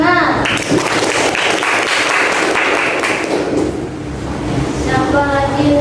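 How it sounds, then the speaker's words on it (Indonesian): Classroom applause for a student who scored 90 on a test, a steady wash of clapping hands from pupils, with some voices mixed in near the end. "Tepuk tangan."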